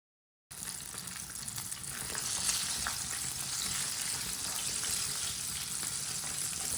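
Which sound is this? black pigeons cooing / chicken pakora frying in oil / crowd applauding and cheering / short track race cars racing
chicken pakora frying in oil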